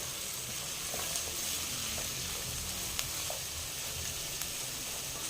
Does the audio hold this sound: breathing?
no